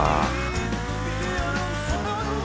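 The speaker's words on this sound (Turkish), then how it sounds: "Neyse şu motora binelim." Engine roar of a motorcycle being ridden in a Turkish-modded GTA video game, a loud steady drone with shifting revs, heard alone with no talk.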